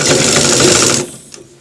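A sewing machine runs in a steady, fast stitching rhythm while sewing a shirt collar, close and loud for about a second before stopping abruptly.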